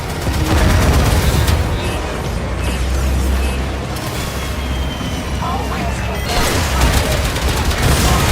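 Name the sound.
torpedoes fired and hitting a ship in Warframe video game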